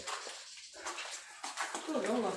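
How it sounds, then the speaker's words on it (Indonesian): Water rushes steadily through a river flowing inside Goa Basah cave in Indonesia, a broad continuous hiss and slosh that fills the space while a person speaks over it. "Ada sungai yang mengalir nih teman-teman di dalam goanya"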